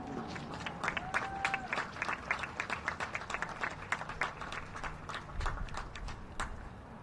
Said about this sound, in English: one more round of applause for our 6 graduating seniors